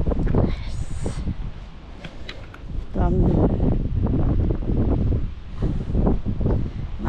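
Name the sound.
wind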